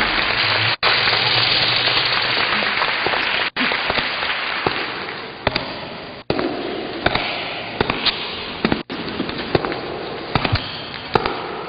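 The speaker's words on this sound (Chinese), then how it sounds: "现在让我们以掌声欢迎李小龙。" A large audience at the National Theater claps in welcome, a broad continuous patter of many hands with a few sharp cuts, some isolated sharper claps standing out near the end.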